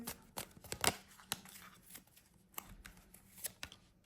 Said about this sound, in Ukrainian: Перетасую колоди, витягну для вас три карти.